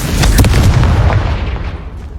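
A Confringo fire spell blasts in Hogwarts Legacy, a loud, booming explosion with a sharp crack near the start and a rumbling, crackling decay that fades out over about two seconds.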